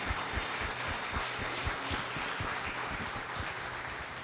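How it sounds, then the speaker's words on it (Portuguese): A church congregation applauds at an evening service, a dense, steady wash of clapping heard from some distance, fairly quiet and even throughout with no speech. "Aplauda esse Deus."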